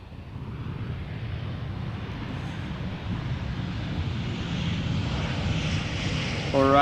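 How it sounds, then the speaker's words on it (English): A Boeing 737-700 arriving at Amsterdam Schiphol from Paris-Charles de Gaulle gives a steady, distant engine rumble that grows slightly louder toward the end, with a brief tonal sound at the very close. "737-700 arriving from Paris-Charles de Gaulle"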